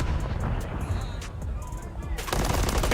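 Rapid automatic gunfire from a Call of Duty esports match, crackling bursts of shots with a dense roar of fire at the end, heard under a busy game mix.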